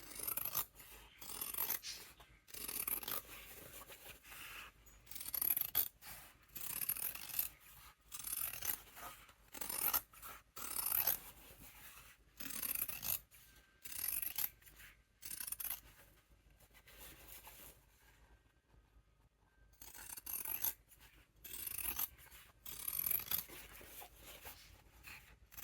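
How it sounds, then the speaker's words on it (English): Scissors trim the fabric seams of a Yuletide Christmas stocking, with repeated crisp snipping cuts in irregular bursts, close and fairly quiet, and short pauses between them. "Then I trim my seams."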